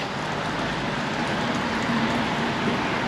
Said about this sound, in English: welcome to another overcast and rainy day in Vientiane